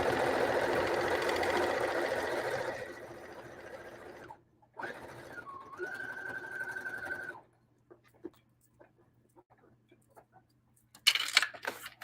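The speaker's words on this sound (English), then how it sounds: "I sew a new strip on each side of the last one" Sewing machine stitching fabric strips for a casserole pad, a close, steady whirring run that pauses, restarts, then stops, followed by quiet handling sounds and a brief burst of noise.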